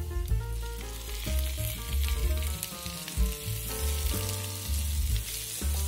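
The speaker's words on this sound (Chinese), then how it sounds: "去皮切块的也一起下去，这样慢慢翻炒，大约煸炒个两三分钟" Asparagus pieces stir-fry over medium-low heat in melted butter with garlic, giving a steady crackling sizzle that runs beneath louder background music.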